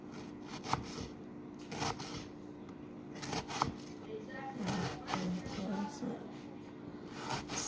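A kitchen knife slices through food on a cutting board, making a series of crisp, irregular strokes close by while a voice talks quietly in the background.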